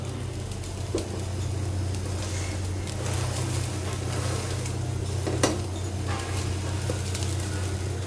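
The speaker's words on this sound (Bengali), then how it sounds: "এভাবে একটু চেপে দিলে সব জায়গাটা সুন্দর করে ভাজা হয়" Bread soaked for Bombay toast with cheese fries in a pan, a steady close sizzle with a few faint clinks and stirring sounds and no talk.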